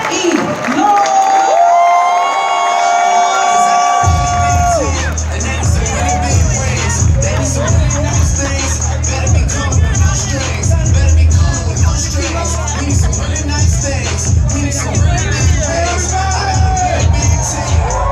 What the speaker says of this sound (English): I want you to go ahead and just start clapping your hands